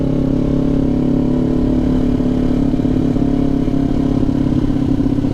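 A Kawasaki Ninja 400 motorcycle with oddly noisy brakes gives a steady, loud mechanical drone with a strong low hum and faint clatter, grinding continuously without pause.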